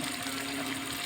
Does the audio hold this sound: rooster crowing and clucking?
no